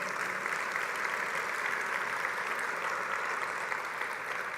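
Steady applause from a church congregation, a dense, continuous wash of clapping that holds evenly throughout with no speech over it.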